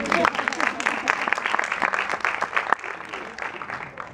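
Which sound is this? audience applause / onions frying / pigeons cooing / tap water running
audience applause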